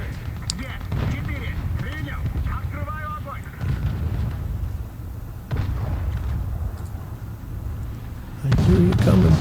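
Artillery fire in War Thunder booms in several heavy, separated blasts amid rumbling tank combat, with a voice talking between the shots.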